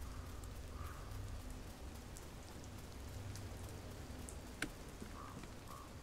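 Steady rain pattering in the Fears to Fathom horror game, a soft continuous hiss of drops with low hum underneath and one brief sharp tap near the end.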